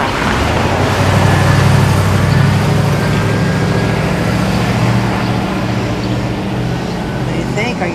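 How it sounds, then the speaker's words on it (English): Steady roar of street traffic with cars, buses and trucks passing close by, a continuous broadband rumble that swells slightly around the two-second mark; people talk faintly underneath. "Later, we try again to align to the sound of traffic."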